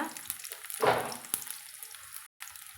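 Small shallots dropped into hot oil with mustard seeds give a brief burst of frying hiss, followed by softer sizzling and a light clink.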